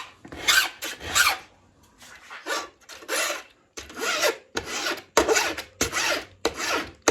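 A hacksaw blade rasps against a leather clicker die being sharpened, in a series of close, loud scraping strokes with short pauses between them.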